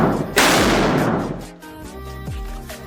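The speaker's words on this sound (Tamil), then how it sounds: "நம்ம 1 kg பாம் வந்து வெடிச்சிட்டோம்" A 1 kg firecracker bomb bursts outdoors on a road with a loud, sharp blast that rolls into a long crackling, rumbling decay, followed by lingering low echoes and faint background noise.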